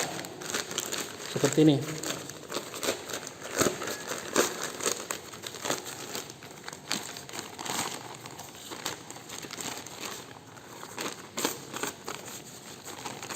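A used plastic polybag, once meant for planting flowers, crinkles and crackles as it is folded down to a smaller size, with steady rustling under a person talking nearby.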